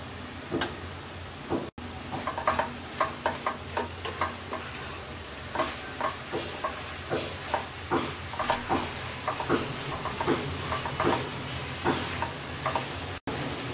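Cabbage and potato curry with garam masala is stirred in a frying pan, giving a steady run of rhythmic scraping strokes over a constant close sizzle.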